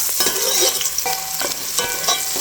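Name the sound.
sautéing garlic, ginger and onion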